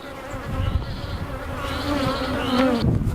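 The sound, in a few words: honeybees buzzing during a hive inspection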